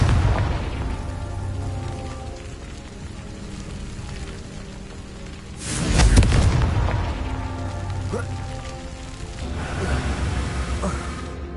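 Confringo fire spell explosions in Hogwarts Legacy on PS5, a booming burst swelling in the middle amid continuous rumbling game ambience, with softer blasts later.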